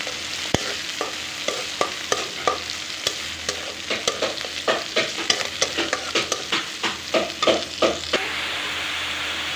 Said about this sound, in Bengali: মাছটা ভাজা ভাজা হয়ে গেছে পরে আমি এখন এর মধ্যে লাউটা অ্যাড করে দিয়েছি